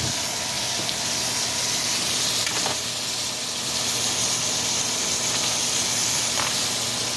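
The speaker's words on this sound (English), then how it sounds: "We're going to throw some pats of butter inside there." Pats of butter hiss and sizzle steadily in a hot pan alongside a porterhouse steak, an even, continuous frying hiss without pauses.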